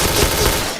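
Rapid gunfire from a first-person shooter match of Point Blank on the Blowcity map, a dense loud burst of overlapping shots filling the short moment with no pause.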